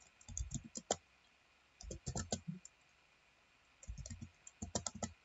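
A command is typed on a computer keyboard in quick bursts of crisp, close key clicks separated by short pauses, quiet overall.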